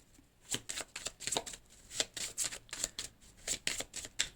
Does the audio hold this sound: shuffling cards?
yes